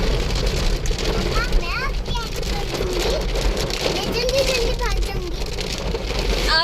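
Rain falls steadily in a dense, even hiss across the whole stretch, with people chatting close by over the downpour.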